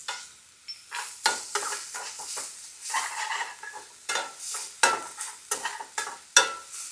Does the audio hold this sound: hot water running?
no